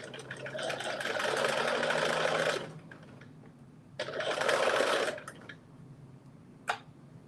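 A sewing machine stitches a fabric tie between the back and front pieces in two bursts of steady, whirring, rapid needle chatter, each a few seconds long, separated by a pause and followed by a faint short click.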